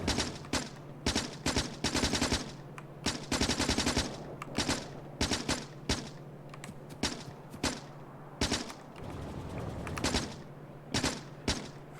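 Rapid automatic gunfire from Factorio comes in repeated short bursts over a steady low mechanical hum, moderately loud and close, with brief pauses between volleys.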